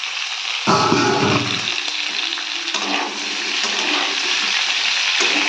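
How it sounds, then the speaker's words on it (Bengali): Bottle gourd greens fry in hot oil with bay leaf, dried chillies and five-spice in a village kitchen. The sizzle is loud and steady throughout, and stirring surges in brief louder bursts. "এবার আমি শাকটা ভাজবো"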